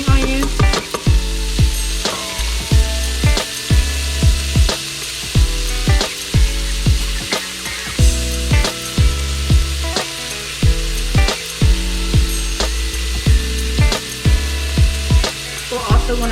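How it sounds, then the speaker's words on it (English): Onion and green onion sizzle loudly in a hot Instant Pot while a utensil knocks against the pot in a steady, repeated rhythm of sharp clacks. "now we're going to add in our onion"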